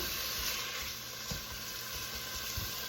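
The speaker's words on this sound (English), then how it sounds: "So I'm just going to go ahead and give this a good stir" A breakfast pizza mixture being stirred in a hot pan, with a soft, even sizzle and a few faint scrapes of the utensil, close by and without speech.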